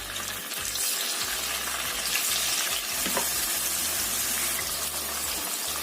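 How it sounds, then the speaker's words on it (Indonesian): Tofu sizzles and crackles steadily in hot oil, a continuous dense frying hiss up close. "Ini kita goreng tahu sampai kuning matang."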